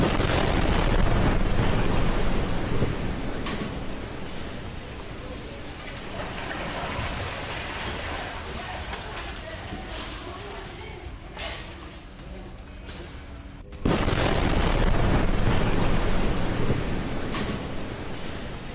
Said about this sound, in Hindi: रदवान इलाके में भीषण बमबारी